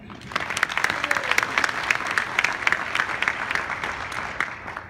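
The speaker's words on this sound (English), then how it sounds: "Can I hear another applause for that?" Sustained audience applause at a 2018 national business convention in Philadelphia, steady dense clapping with a few louder claps standing out, moderately distant and filling the room for the full length.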